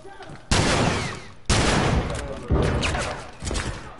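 Heavy gunfire in The Last of Us multiplayer: loud bursts of rapid shots open at regular intervals, roughly every second, packed close and dense, over a steady background of combat noise, with a voice calling out faintly beneath.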